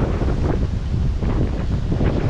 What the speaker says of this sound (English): Back up to 30 plus knots of wind,